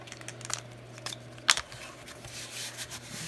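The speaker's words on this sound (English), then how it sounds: "I'll cut it and get some big scissors." Quiet snipping of scissors through paper, a few soft cuts with one sharper snip in the middle, over low background hum.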